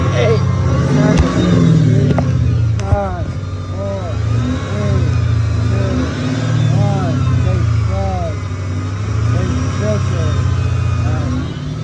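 A 2007 Ford Mustang GT engine held steady at around 2,000 RPM, a loud continuous rumble with a slight waver in pitch, heard close up while people talk over it.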